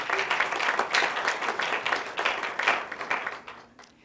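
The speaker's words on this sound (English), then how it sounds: "Can you give them a round of applause?" A graduation ceremony audience claps in a fairly close, lively burst of many hands, with individual claps standing out in a dense patter that thins toward the end.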